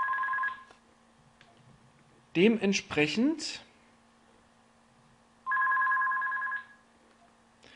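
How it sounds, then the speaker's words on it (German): A telephone rings in two short bursts, each a steady electronic trill, with someone speaking briefly between them in a quiet room. "klingelt kurz das Telefon"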